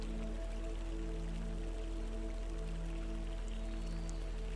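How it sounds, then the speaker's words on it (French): A distant waterfall and flowing stream in a guided-meditation soundscape of Rivendell, heard as a steady, soft wash of rushing water with a low constant hum beneath and no voices. "Vous entendez une cascade et un cours d'eau au loin."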